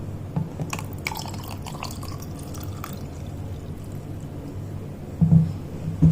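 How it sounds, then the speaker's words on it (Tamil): Water is poured into a lemon juice sarbath in a home kitchen, a steady close trickling with a few soft drips and clinks near the end. "தேவையான அளவுக்கு வாட்டர் ஆட் பண்ணிடலாம்"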